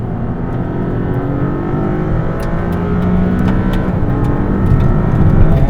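A Maserati MC20 drives on the Sepang race circuit, heard from inside with a loud, continuous engine drone that builds steadily as it accelerates. Light rattles and clicks sit over the engine, and no one speaks.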